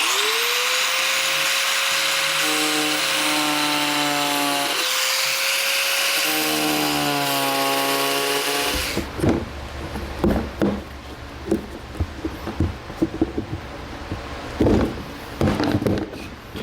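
A rotary tool whines at a high steady pitch, rising and falling as it cuts notches for a hidden trailer hitch install on a 2016 Volkswagen, then stops and gives way to scattered clanks and handling noises.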